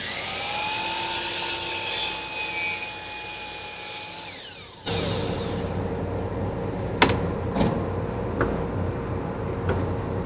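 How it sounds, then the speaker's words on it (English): A miter saw cuts cedar to length for handles, its motor whining up and spinning down, then a second loud run follows with a few sharp clacks near the end; close and loud, no speech. "I'm going to use my miter saw here to get her cut to length"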